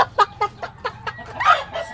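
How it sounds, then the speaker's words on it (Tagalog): A chicken clucks in a quick series of sharp, close calls, ending in a louder, drawn-out squawk. "Ito yung manok."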